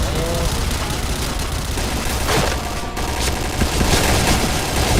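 Rapid bursts of Point Blank video game gunfire crackle loudly, with a few sharper blasts breaking through the continuous shooting.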